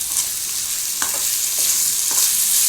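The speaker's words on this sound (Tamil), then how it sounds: "இது நல்லா வதக்கிக்குவோம்." Brain fry being sautéed in a pan, with a steady close sizzle of frying and a few short scraping stirs of a spatula against the pan, and no talking.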